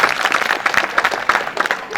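An audience claps loudly and continuously at a Hindi comedy show, a dense close burst of applause from a crowd.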